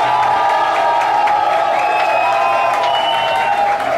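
Audience applause and cheering for a dancing couple at a televised dance competition night, a dense, steady wash of clapping with crowd voices and whoops running loud and continuous throughout.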